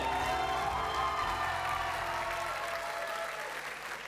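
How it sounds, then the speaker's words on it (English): An awards-night audience claps and cheers continuously, dense applause with a few whoops filling the room and slowly tapering toward the end, no speech on top. "One loud cheer for Simplex once again."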